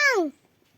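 A single short cat meow, close and clear, with a falling tone lasting about a third of a second, then near silence.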